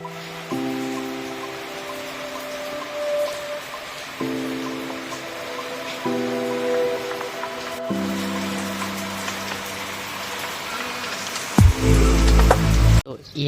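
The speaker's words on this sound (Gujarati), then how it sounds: "જો વરસાદ આવે છે" Steady rain falls during a storm in Botad, Gujarat, a soft continuous hiss of drops on surfaces running under droning tones and a voice, with a louder closer burst near the end.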